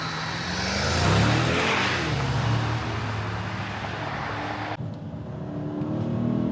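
Mercedes-Maybach GLS 600 SUV accelerating hard in third gear on an open road, a steady, loud engine roar with rising revs and heavy wind and tyre noise throughout, heard from inside the cabin.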